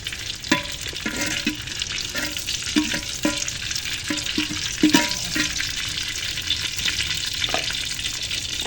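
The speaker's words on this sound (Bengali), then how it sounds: "এই হাঁড়িতে দিয়েছি সরষার তেল এখন এখানে দিয়ে দেবো শুকনো লঙ্কা আর সর্ষে" Dried red chilies and mustard seeds crackle and sizzle in hot mustard oil in a cooking pot, a steady frying hiss broken by sharp pops and scraping stirs close by.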